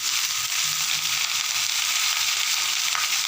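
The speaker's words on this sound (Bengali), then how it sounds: "লবণ দিয়েও সবজিটাকে ভালো করে নেড়ে করে মিশিয়ে নেব" Mixed vegetables seasoned with salt fry in a pan. A close, loud hiss of frying holds evenly from start to finish.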